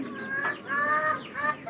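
Chicken clucking at a pigeon loft, a few short clucks and a drawn-out squawking call heard up close, rising and falling in bursts with no talking.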